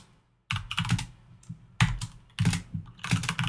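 Keystrokes on a computer keyboard while editing in Vim, rapid clusters of clicks in several bursts separated by short pauses, close and clear with no voices.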